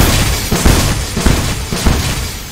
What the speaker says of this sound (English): Also, explosions.